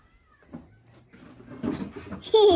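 A cat meows near the end, a clear rising cry, following soft rustling and quiet background voices.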